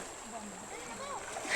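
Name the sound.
children splashing while bathing in a river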